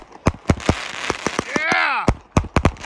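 A Warrior 'Skate or Die' 30-shot firework cake erupts in rapid loud pops and bangs, with a rising whistling screech midway and crackling between shots.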